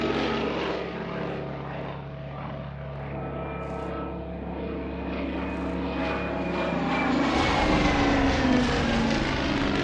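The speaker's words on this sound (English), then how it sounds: "a Heinkel 111 appeared, and they escorted it to Guernica." A Heinkel 111 bomber flies toward Guernica, its propeller engines giving a continuous droning hum that swells a little louder as it passes overhead.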